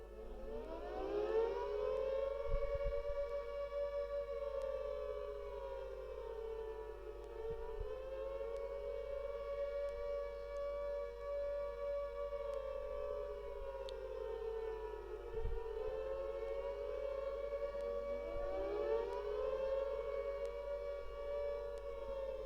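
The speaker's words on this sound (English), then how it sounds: "enjoy the siren noise that would have been sounded in the streets of Belfast during an air raid" An air raid siren wails through Belfast streets during the Blitz. Its loud, continuous tone rises and falls in slow repeating cycles for the whole stretch, with no voices.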